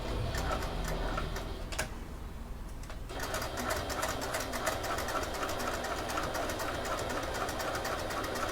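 A sewing machine stitches a fabric wallet with a steady, rapid mechanical rattle, pausing briefly for about a second before running on continuously and loudly up close.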